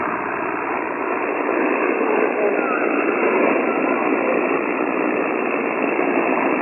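A weak amateur radio station comes in barely above the receiver's noise floor on an Icom rig, a voice buried in steady band-limited hiss and static that carries on throughout.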